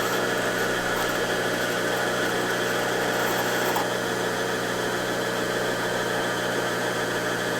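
Brother PE800 embroidery machine winding a bobbin, a steady continuous motor whir with a low mechanical hum holding evenly throughout, close and fairly loud, no talking.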